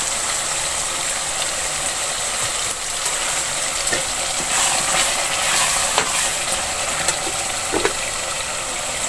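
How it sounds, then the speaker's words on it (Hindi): Mutton liver frying with ground garam masala in a pan gives a dense, loud, steady sizzle, with scattered scraping stirs and clinks throughout and no talking. "अब मैंने कलेजी को भून लिया।"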